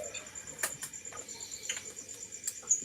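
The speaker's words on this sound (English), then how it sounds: "Crickets are in charge." Crickets chirp in a quiet room, a thin high steady trill with soft clicks and ticks scattered over it, fairly faint and alone.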